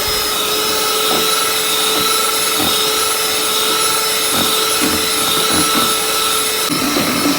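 Electric blender whipping a cup of whipping cream, a steady loud motorized whir that holds throughout with slight rhythmic fluctuations, alone without talk.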